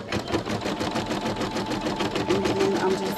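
Brother SE625 embroidery machine stitching a name onto a Halloween treat bag, a steady rapid mechanical rattle of needle strokes running continuously at close range, with faint speech underneath.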